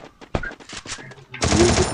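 UMP submachine gun fire in the mobile game Free Fire, heard as a dense burst of rapid shots near the end. Sharp clicks and game effects come before it, and a voice can be heard in the background.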